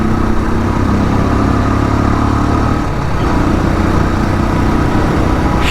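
Motorcycle engine running steadily on a road through Buxwaha forest during an overtake, a continuous loud drone with a slight dip in pitch midway, no voices.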